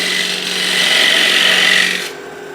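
A gouge cuts into the rim of a turned wooden bowl on a lathe. Close, loud steady scraping hiss swells and holds, then drops away abruptly near the end, leaving the lathe hum. No talking.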